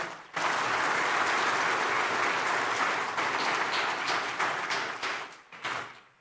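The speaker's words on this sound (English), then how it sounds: "give a huge round of applause to them" A crowd at a nursing award ceremony applauds loudly and steadily for several seconds, then the clapping thins out and tapers away.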